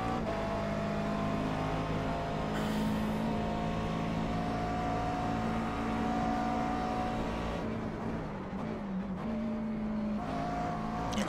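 A McLaren MP4 12C GT3 race car engine at Bathurst in the iRacing sim, held at a steady high drone before its note drops and wavers as the car shifts down, then picks up again.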